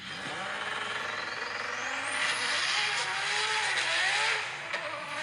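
A Nissan Skyline engine revs up in a rising whine that climbs steadily, holds at a high pitch, then eases off, loud and fairly close with no voices over it.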